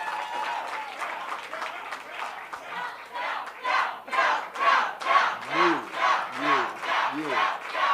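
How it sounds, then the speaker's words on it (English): Crowd at a campaign primary-victory event applauding and cheering for the campaign team, loud sustained clapping that swells into rhythmic chanting in pulsing waves, with a voice faintly audible beneath. "Let's give them a round of applause."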